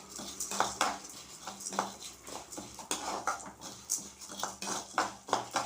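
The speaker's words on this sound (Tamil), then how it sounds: "இந்த பருப்பு போட்டுருங்க, அதை வறுத்துக்கலாம்." Toor dal and lump asafoetida roast in oil in a kadai while a spoon stirs them, giving repeated close scraping and clinking strokes over a faint sizzle.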